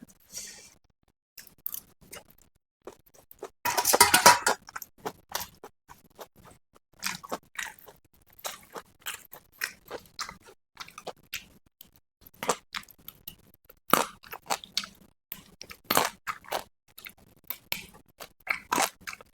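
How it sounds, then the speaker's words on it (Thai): Close, crisp crunching of pea eggplants being chewed raw, a steady run of sharp bites and munching with one louder crunch burst early on, no talking. "มะเขือพวง กรอบดี"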